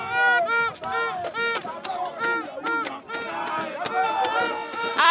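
A dense crowd at a #SaveTheJudiciary demonstration, with many voices shouting and chanting together loudly and close by, rising and falling in rhythmic bursts for the whole stretch.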